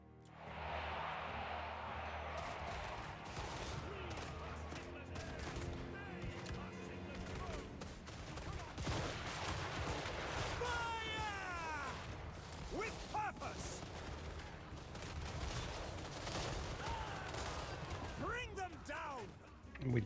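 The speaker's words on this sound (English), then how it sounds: "and then we just shoot the hell out of them" Pistoliers firing volleys of gunfire in a strategy video game, a dense clatter of shots mixed with battle noise and game sounds throughout, under continuous voice commentary.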